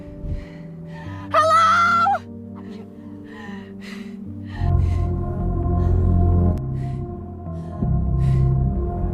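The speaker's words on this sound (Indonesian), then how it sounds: "Olivia berteriak sekuat-kuatnya, memanggil siapapun yang bisa mendengarnya," A woman stranded after a plane crash screams for help in a film: one strained, high cry stands out briefly above a low, droning music score, followed by quieter gasps and breaths.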